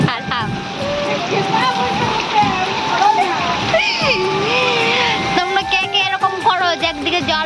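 After heavy rain fills a courtyard, water splashes and pours continuously as it is bailed out, with sloshing bursts near by and voices talking over the watery noise.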